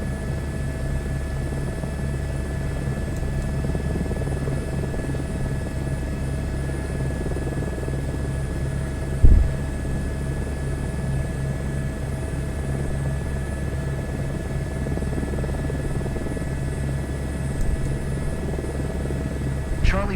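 Airbus helicopter in a flight simulator, its rotor and turbine giving a steady, loud, droning hum with a constant buzzing tone throughout, a brief thump partway through, and no voices.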